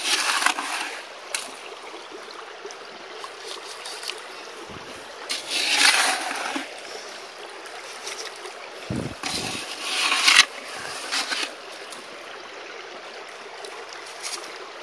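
Water runs through a newly set up sluice box, producing a continuous rushing trickle with brief louder splashing surges, and no one speaks.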